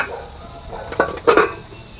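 A metal lid set onto a cooking pot of squash: a couple of quick clinks and a short clatter close by, then quiet.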